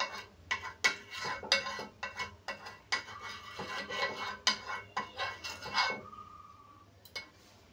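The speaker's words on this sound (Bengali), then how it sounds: "একটু তেল দিয়ে এইভাবে পুরো তাওয়াটার মধ্যে লাগিয়ে দেব।" Oil is spread across a hot tawa griddle with a utensil, giving a quick series of scraping, rubbing strokes and light metallic clinks in an uneven rhythm, close and fairly quiet.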